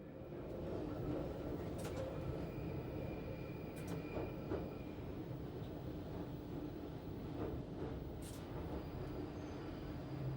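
Steady low rumble of a London Underground Northern line train running through a reversing loop, with occasional faint squeals and clicks from wheels and rails.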